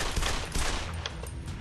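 Dense rapid gunfire from a hunting rifle in the video game Deer Hunter 2018, during a fire-themed survival event, a continuous rattling burst lasting the whole moment with no speech.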